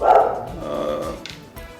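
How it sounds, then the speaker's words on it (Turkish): A dog barks a few times in the background of a furniture workshop, fairly loud at first and then fading, with a brief voice at the start. "Arkadan da köpeğimizin sesi geliyor."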